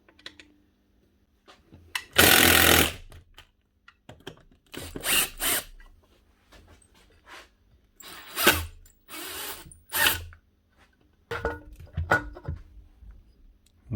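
Bolts being threaded in by hand tool to press a worn pulley off an old Italian-made Pegasus floor sander, giving several separate bursts of ratcheting and metallic scraping with quiet gaps between them.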